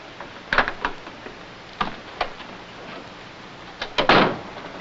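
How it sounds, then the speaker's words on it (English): An old door being unlocked and opened in a dim room, heard as a series of close clicks and knocks followed by a louder rattling thud near the end, with no talk. "Open the door."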